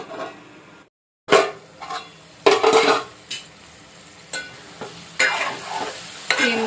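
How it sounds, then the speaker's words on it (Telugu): Drumstick, potato and cucumber curry stirred in a pan with curry leaves, a spoon scraping and clanking in repeated strokes over a steady close sizzle, with one brief silent gap near the start. "ఒకసారి ఇవన్నీ కలిసేలాగా బాగా కలుపుకోవాలి."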